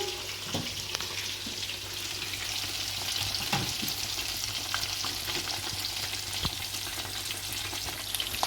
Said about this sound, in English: It's been frying for 5 minutes or so.